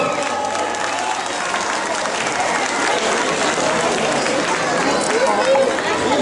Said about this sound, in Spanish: Los despedimos a todos nuestros participantes con un fuerte aplauso.